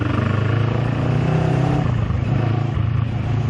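A 2019 Kawasaki Z650 twin-cylinder motorcycle engine runs loud and close at highway speed, with a steady throbbing drone mixed with wind rush.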